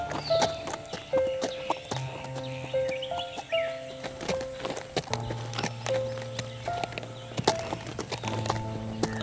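Cartoon horse hooves clip-clopping in a steady walking rhythm beside a short neigh, over bright animated background music, with a few light effects and no talk.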